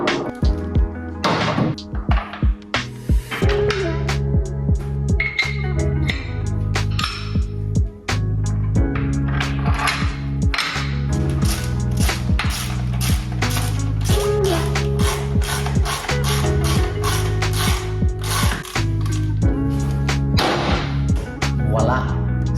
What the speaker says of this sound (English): Step 3, let's mount the bobbin.